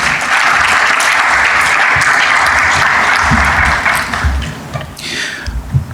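A conference audience gives the panelists a sustained round of applause, loud and even before tapering off into a few scattered claps near the end.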